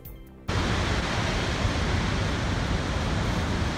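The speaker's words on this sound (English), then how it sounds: "The sound of gushing water cascading down to the river" Waterfall at a retreat in Washington State, gushing water cascading down to a river: a dense, steady, loud roar that begins abruptly after a brief quiet moment and holds constant throughout.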